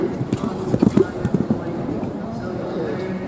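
Older lightweight show horses move around a show ring in Dublin, their hooves clip-clopping in an uneven cluster of thuds over a murmur of background voices, with distant speech nearby.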